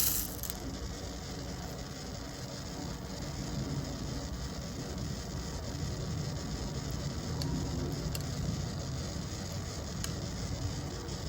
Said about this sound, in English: I'm gonna turn the bead spinner back on and put my needle in.